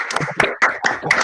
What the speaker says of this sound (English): I'll be clapping along